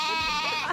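A person imitates a goat, giving one sustained, wavering bleat that fills the short moment loudly and close.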